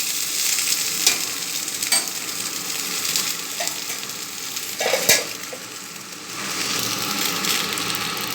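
Okra and potatoes fry in a covered pan, giving a steady, close sizzling hiss broken by a few clanks and scrapes of stirring.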